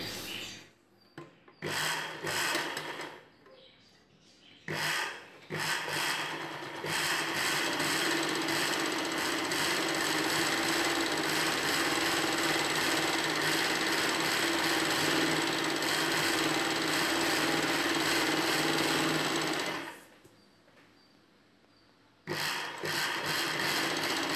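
Joined pieces of an Anarkali dress are stitched on a sewing machine. A few short bursts lead into one long, continuous, close mechanical run, which stops briefly before restarting.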